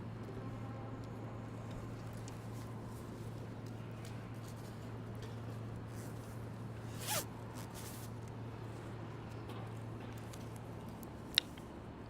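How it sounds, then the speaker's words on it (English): A jacket is unzipped outdoors on a night street in Midtown Manhattan to pull out a plastic bag: one quick zipper rasp and a brief rustle over steady low city hum and traffic. "So this plastic bag actually went down my jacket. I got to get it out."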